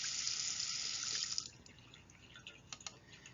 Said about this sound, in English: So I'm going to rinse this off really quickly.